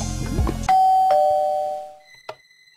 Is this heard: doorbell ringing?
yes